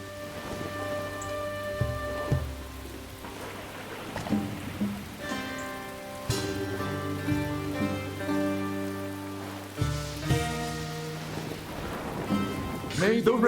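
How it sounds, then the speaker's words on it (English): Steady rain hisses over a forest in the video game Echoes of Mystralia, a soft continuous patter running beneath sustained musical tones throughout. "May my rain fall to shield the leaves."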